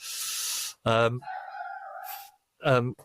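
A dog barks a few times up close, short harsh yelps with pauses, followed by a longer wavering howl-like call.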